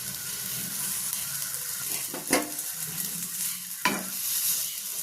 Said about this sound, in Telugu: చూడండి ఇలా ఎంత బాగా వేగుతున్నాయో చూడండి.